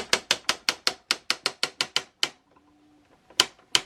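The turret of a 2-in-1 battle tank toy ratchets as it is turned, giving a fast, even run of about a dozen sharp plastic clicks, then a pause and two more isolated clicks, close and crisp.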